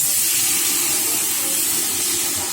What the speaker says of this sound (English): we're going to add about about 900 mils of vegetable broth straight into the pan